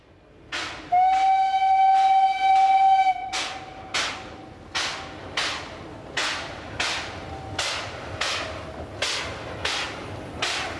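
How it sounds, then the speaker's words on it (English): A steam train whistles for about two seconds, then chuffs in a steady, evenly spaced rhythm as it runs through the streets of La Chaux-de-Fonds on the Swiss Jura railway. The sound is fairly close and clear, with no talking. "The steam train is an unusual vehicle through the streets of La Chaux-de-Fonds"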